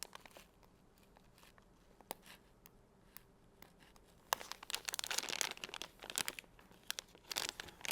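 Someone cuts open a plastic bait package, starting with quiet snips and then moving into louder crinkling and rustling of the plastic, close to the listener.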